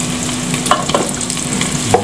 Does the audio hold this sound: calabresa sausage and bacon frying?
yes